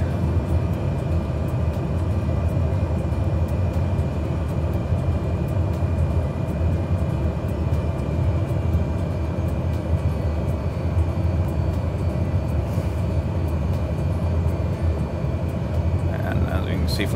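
Steady, droning turboprop engine hum of a Cessna 208B in Microsoft Flight Simulator 2020, throttled back on approach, a constant low rumble filling the background with no clear change in pitch.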